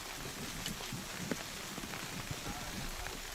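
Rain falls steadily outdoors at a para trap shooting final, a soft, constant patter broken by scattered sharper drops and taps.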